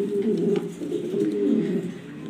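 Pigeons cooing, including a female sitting on eggs. Low, throaty coos roll on continuously, close and clear, with no voices.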